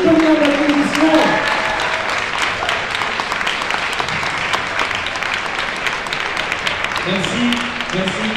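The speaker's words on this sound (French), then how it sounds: "je vous demande de faire beaucoup d'applaudissements." Audience applause at a fan festival panel in Paris, a steady wash of clapping that holds throughout, with voices speaking over it at the start and again near the end.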